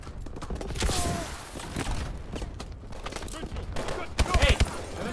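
Gunfire in Call of Duty: Advanced Warfare multiplayer, with scattered bursts and a tight cluster of rapid shots near the end, heard under excited chatter from players.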